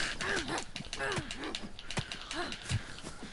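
Goats in the video game DayZ let out several wavering bleats, some overlapping, against a constant background of game noise, with a few dull thumps scattered between the calls.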